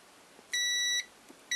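A multimeter on continuity mode checks an electric bike motor, giving a clear electronic beep of about half a second, then a second beep starting just before the end.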